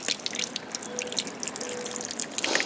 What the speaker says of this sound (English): You just pick it up, strains the water out, of course.